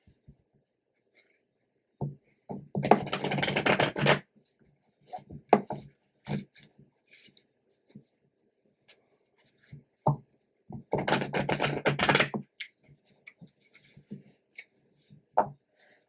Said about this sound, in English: I'm glad this is the last deck I have to shuffle here